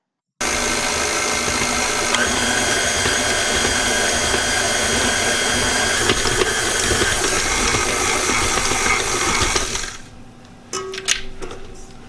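Cold butter chunks worked into lemon-square crust dough by an electric mixer, which whirs loudly and steadily for about ten seconds, then stops, leaving a few faint clinks.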